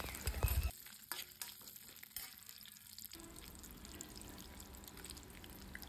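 Peanuts, cashews and garlic frying in a pan, with a few clinks of stirring at first and then a quiet, steady sizzle alone.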